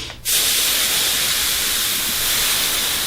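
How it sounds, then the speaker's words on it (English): A steam iron blasts steam onto a hooked wool rug piece under a damp cloth, giving a sudden loud, close hiss that starts abruptly and holds steady to the end. "And again, I'll steam it."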